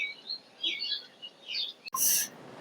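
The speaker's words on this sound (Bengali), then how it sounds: "সামনে দেখা যাচ্ছে প্রচুর পাখি, যার মধ্যে বেশিরভাগই বক।" Birds near a sanctuary, mostly egrets, give scattered high calls and chirps at moderate distance, followed by one louder, brighter burst near the end, with no talk.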